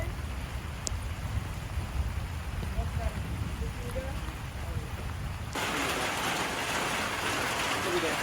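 Steady rain falls on a ranch on a chilly day, a dense, even hiss that grows louder and brighter partway through, with low rumbling underneath and faint voices at times.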